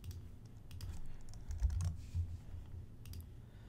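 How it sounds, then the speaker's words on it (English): Keys clatter on a computer keyboard in short irregular bursts, fairly quiet and close, with a few heavier thumps mixed in and no one speaking. "So we'll type social"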